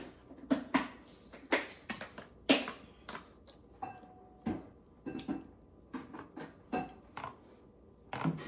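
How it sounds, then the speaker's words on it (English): The back of a spoon pats a cheese mixture down into a lasagna pan, giving a close series of soft, irregular taps and clinks against the dish with short pauses between them. "I'm going to just kind of pat it with the back of my spoon down into this pan"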